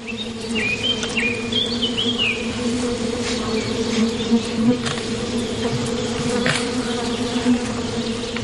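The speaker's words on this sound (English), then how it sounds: "But there isn't much here, except angry bees." Angry bees swarm and buzz continuously around a wild hive broken open in a tree by a bear in the Russian wilderness, a dense steady drone with a few faint bird chirps in the background.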